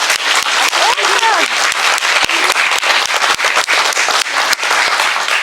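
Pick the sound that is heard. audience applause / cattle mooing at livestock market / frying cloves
audience applause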